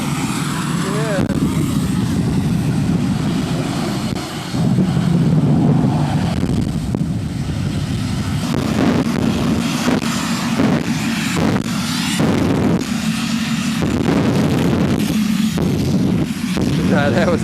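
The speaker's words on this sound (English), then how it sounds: "They just had both the jet cars going" Two jet cars at a beach classic car show run together, a loud continuous roar that pulses and surges over many seconds, with people talking amid the noise.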